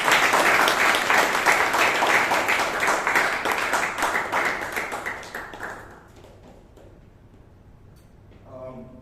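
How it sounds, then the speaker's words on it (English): Audience applause at a Toastmasters club meeting in Bangalore, a dense burst of many clapping hands that fades out over about six seconds, leaving a quiet room with a faint brief sound near the end. "Please give all the speakers and all the evaluators a huge round of applause."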